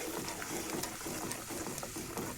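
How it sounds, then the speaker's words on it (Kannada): Onion and tomato masala simmers and sizzles in hot oil for an Andhra chicken curry, giving a steady, low bubbling and crackling hiss throughout, faint and continuous with no voices. "ಇದು ಚೆನ್ನಾಗಿ ಕುದಿಸ್ಬೇಕು ನೋಡ್ರಿ ಎಣ್ಣೆಯಲ್ಲಿ."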